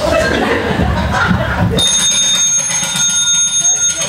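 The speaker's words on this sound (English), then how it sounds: "Did you bring your own bell?" A bell rings out in a single sustained chime partway through, ringing on after a stretch of noisy chatter and background voices in an indoor gym setting.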